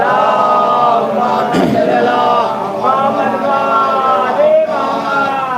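A crowd at a Muharram majlis in Atrauli chants salawat and 'Ali' slogans together, a dense, sustained mass of voices with rising and falling pitch, loud and reverberant.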